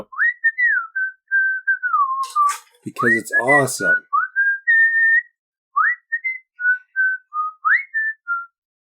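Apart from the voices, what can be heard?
person whistling a tune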